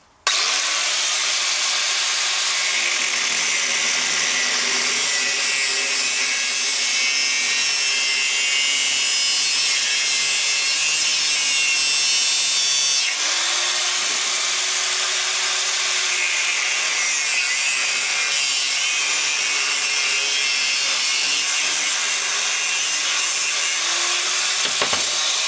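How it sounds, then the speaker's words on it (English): An angle grinder cuts through a metal weather vane pole on an allotment plot, a loud continuous abrasive whine and rasp that holds steady for about twenty-five seconds, with no talking over it. "Then I'll just cut through that with the angle grinder."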